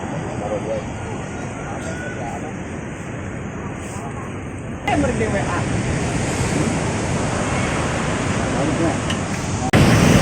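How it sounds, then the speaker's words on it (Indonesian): Ocean surf crashing against rocky coral cliffs on the Banten coast in Indonesia: a dense, continuous roar of breaking waves with wind buffeting the microphone, surging louder near the middle and again at the end. "apalagi tuh deburan ombak yang menabrak dinding tebing karang"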